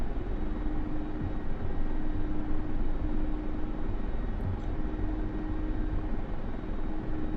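An Mi-24 Hind attack helicopter hovers in the DCS flight simulator, its rotor and turbines making a dense, unbroken roaring drone at constant loudness with no voices.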